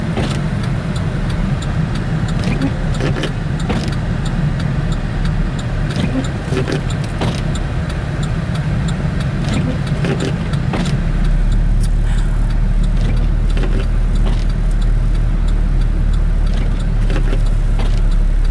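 A car driving on a road into a lake-effect snow storm, a steady loud engine and road rumble throughout with wind noise and occasional clicks and rattles inside the cabin.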